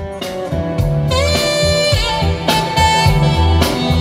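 Heavy, booming bass notes pulsing in a steady rhythm under layered music from an upgraded high-end sound system in a Tesla Model 3, loud and close.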